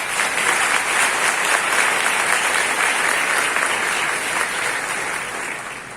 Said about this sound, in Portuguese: a quem também saudamos com uma forte salva de palmas